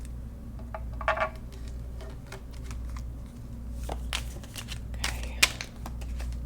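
Tarot cards are shuffled and handled close by in quiet, crisp riffling flicks and taps, with one brief spoken word partway through.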